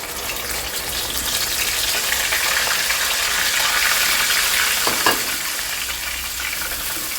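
Ground tomato and onion paste goes into spices already frying in a pot for a thick chickpea gravy, and a loud, steady sizzle fills the clip with a brief stirring clank near the end.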